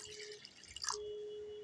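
Water is poured into a bowl to dissolve half a spoon of baking soda, a short quiet splash and trickle in an otherwise still room.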